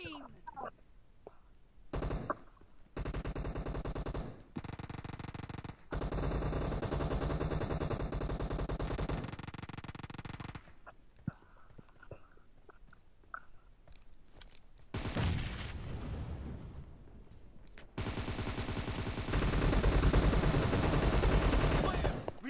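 PUBG Mobile gunfire comes in long, dense automatic bursts, loud and close, broken by brief pauses and a few single shots, with voices talking between and under the shooting.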